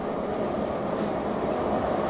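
A Class 47 diesel locomotive hauling a long freight train at speed through a station at night, heard as a steady, dense roar of wheels and wagons with no distinct beats.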